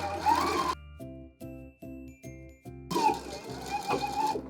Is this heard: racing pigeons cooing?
no